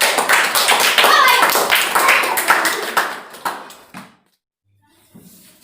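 A school audience claps after a comedy performance, with sharp, fairly close claps in an uneven rhythm that thin out and stop, followed by a near-silent pause and a faint sound at the end.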